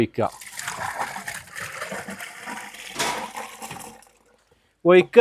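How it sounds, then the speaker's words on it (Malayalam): Liquid kitchen waste is poured into a BioCook biogas cooker, a steady close splashing gush lasting several seconds before it stops, followed by a short burst of voice at the end. "ഇതേമാതിരി വേസ്റ്റ് ഒഴിക്കുക"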